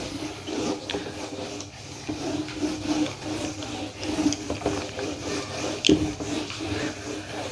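Board eraser or duster rubbing out chalk writing on a classroom board, a steady scratchy rasping scrub with repeated strokes at moderate level and no talk.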